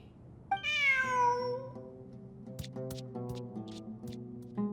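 A cat in Genshin Impact gives one clear, close meow near the start, followed by soft ticking and clicking sounds over a low steady background tone.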